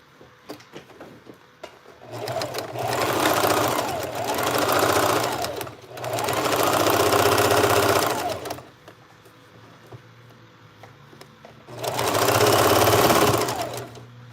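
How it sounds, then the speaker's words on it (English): A sewing machine stitches in three loud, fast-whirring bursts separated by short pauses, close by, with no talking. "So, back to my sewing machine. And I'm going to sew"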